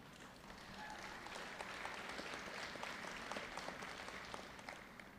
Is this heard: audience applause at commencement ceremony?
yes